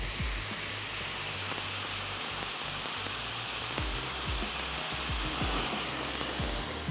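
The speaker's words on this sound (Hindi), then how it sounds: "अब मैं इसमें ऐड करने जा रही हूँ थोड़ा सा पानी।" Water added to a hot pan of karahi sizzles and hisses loudly and continuously, with bubbling pops scattered throughout, steady and close, no talking.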